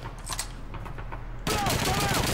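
Rapid, dense bursts of MG42 machine gun fire from the German side in a Call of Duty 2 World War II battle, erupting loudly halfway through after quieter scattered gunshots and background noise.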